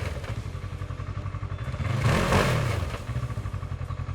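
A Segway AT10 1000cc ATV engine revs in low gear while stuck on off-road terrain, its loud pulsing drone swelling to a peak midway and then settling back, with no voices.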